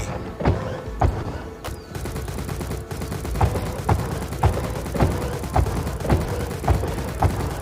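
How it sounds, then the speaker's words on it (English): Automatic gunfire in the mobile game Dark Days, with evenly spaced heavy shots and thuds repeating about every half second over a steady mechanical background, fairly loud and close, with no speech. "So it's like an auto fire, it is firing, I believe."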